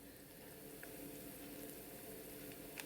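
Mustard seeds, cumin, chana dal and urad dal sizzling in hot coconut oil for beetroot palya, a soft, steady crackle and bubbling hiss with faint pops, fairly quiet and continuous with no talking.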